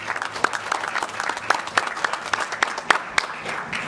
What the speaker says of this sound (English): So a round of applause for those folks.